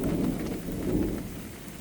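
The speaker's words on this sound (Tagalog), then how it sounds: "Ayan, umuulan na naman. Umuulan na naman." Heavy typhoon rain pouring steadily with a deep rumbling wash underneath, dense and constant throughout.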